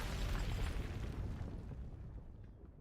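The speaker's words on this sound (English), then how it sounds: "The asteroid is obliterated by a beam of light and shatters into countless smaller fragments" A large, loud explosion as an asteroid is destroyed by a beam of light in the SI Neural Cloud video game, a dense roaring blast that slowly fades as debris scatters.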